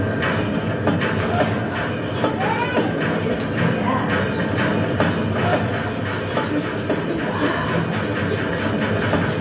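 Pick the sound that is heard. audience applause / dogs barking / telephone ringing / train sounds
train sounds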